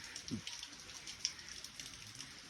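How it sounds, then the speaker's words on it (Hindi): Rain falls steadily outside in a village, a soft, even hiss with scattered faint drips and taps, quiet and continuous with no voices. "बाहर बारिश हो रही है"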